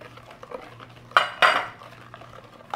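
Utensil stirring quindim mixture in a bowl, two sharp clinking scrapes against the bowl sides standing out over soft background clatter.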